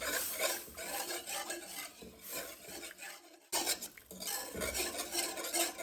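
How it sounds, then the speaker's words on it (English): A pot of kaleve pisupo with onions is stirred hard, making continuous close rasping and scraping strokes against the pot that pause briefly midway, then resume, with no talking. "And then you just stir it, guys. Stir it, trust the process."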